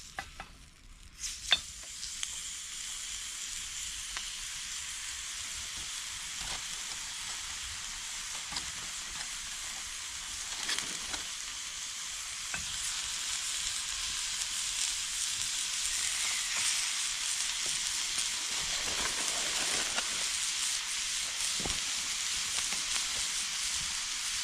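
Meat sizzling and frying over a camp stove at a woodland camp, a steady broadband hiss that builds and grows louder through the clip, with faint clinks and stirring noises near the start and no talk.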